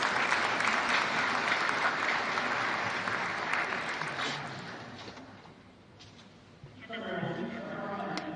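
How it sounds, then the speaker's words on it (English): Audience at a press briefing on Hubei province applauding steadily for several seconds, the clapping fading out before a voice begins speaking. "Let's give a wide applause for the attendance of all our delegates, both online and offline."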